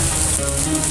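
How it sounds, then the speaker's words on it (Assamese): Cabbage and capsicum filling for a Pathan roll fries in a pan with a brief, steady close sizzle and no voices. "এইগিলা এতিয়া লাহে কৰি ভাজব"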